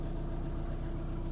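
A Caddy camper van's engine idles steadily while it charges the leisure battery, giving a constant low rumble with no breaks or voices.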